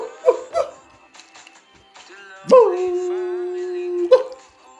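A person imitates a barking dog during a food challenge. The voice gives a few short yips, then a long drawn-out howl, then another yelp, all close to the microphone in a quiet room.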